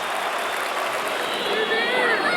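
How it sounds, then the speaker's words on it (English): A boxing crowd on its feet cheers and applauds after the close of Floyd Mayweather Jr. vs. Marcos Maidana, a loud, dense, continuous roar of clapping and voices filling the arena, with a commentator talking over it. "The crowd get the money's worth, and it's on its feet."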